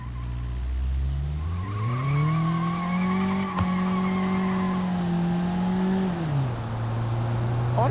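A minivan in the BeamNG driving game whips along with a steady, loud engine drone that rises in pitch as it accelerates, then holds and drops back, with tire noise and skidding throughout.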